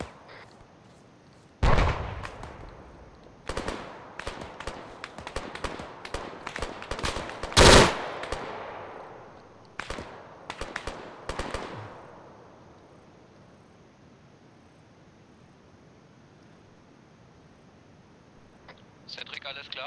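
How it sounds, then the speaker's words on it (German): Gunfire in the military shooter game ArmA 3: bursts of sharp automatic and single shots in irregular clusters, one loud close report among them, some shots more distant, with a spoken voice heard between volleys. "ich werde hinter uns beschossen"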